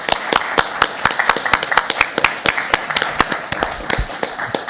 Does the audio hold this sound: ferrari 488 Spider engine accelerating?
no